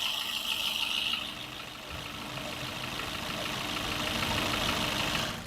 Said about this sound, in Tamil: ஸோ இப்போயுமே நான் இன்ஜின் நாய்ஸ் கொண்டு போகிறேன்.